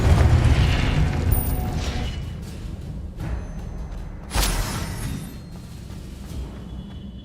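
A Confringo spell in Hogwarts Legacy goes off with a rumbling blast and whooshing bursts, loud at first, then decaying, with a second sharp burst midway.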